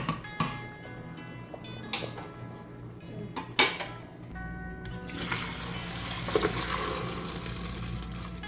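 Half-cooked rice for zarda is strained in a metal pot, with scattered clinks and knocks of the pot and utensils followed by a steady rush of water pouring off through the strainer.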